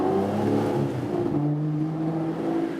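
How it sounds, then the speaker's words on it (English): An Aston Martin V12 Vantage S Roadster engine pulls in second, eases off the throttle briefly, then picks up again after the shift to third, its pitch dropping and rising in a smooth, close drone with no talking. "I was in second gear, accelerated a little bit, then lifted the throttle for a short time and then used the pedal to shift up"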